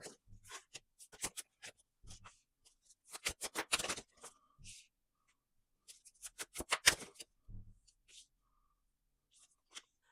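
Tarot cards being shuffled by hand in bursts of crisp riffling and flicking, with two main runs of rapid papery snaps and scattered single taps between quiet pauses, close and fairly soft.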